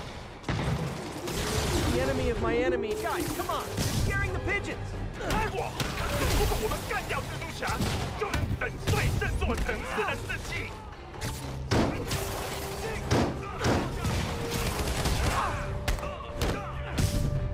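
Rapid bursts of gunfire and heavy thuds fly at the player in a Gotham-styled New York City video game, dense and continuous throughout with shifting tones and clatter layered over it.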